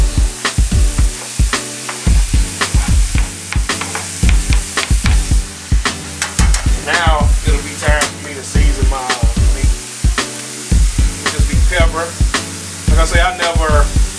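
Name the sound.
onions sizzling in a pan with browned ground beef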